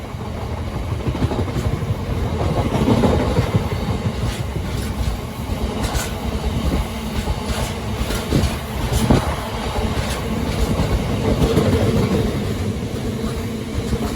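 Two Class 66 freight locomotives, 66053 and 66152, pass at Filton Abbey Wood with a continuous heavy rumble, engine drone and rhythmic clicks of wheels over rail joints, close and loud throughout.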